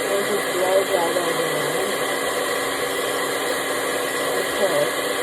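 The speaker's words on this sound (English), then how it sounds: "I'm going to take my blow dryer, turn it all the way up, and just blow dry that" Blow dryer running on its highest setting while drying a lace-front wig: a steady, loud broadband whoosh with a constant motor hum throughout, and a person talking faintly underneath.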